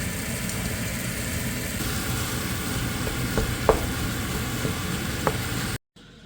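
Ground meat fries in a pan seasoned with salt and pepper, giving a steady, moderate sizzle with a few faint clicks and a low background hum, ending abruptly with no talk.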